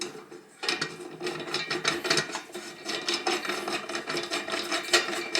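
Metal bolts being threaded by hand into a wall-mounted LED wine rack, a close, continuous run of small scraping, clicking and rubbing metal sounds with an uneven rhythm and no talk.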